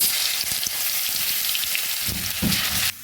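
Garlic fries in hot oil for a country chicken curry with papaya, a close, steady hissing sizzle with light bubbling that cuts off abruptly near the end.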